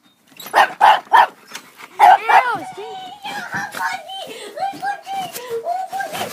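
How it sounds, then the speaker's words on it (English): A beagle gives a few sharp close barks followed by yips and whimpers, with people talking over and around the dog. "It's a dog."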